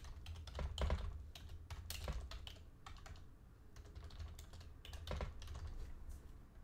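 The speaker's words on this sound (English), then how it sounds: "I typed the wrong thing here" Computer keyboard typing in a quiet room, a steady run of close, light key clicks with brief pauses and a few heavier taps, over faint low background hum.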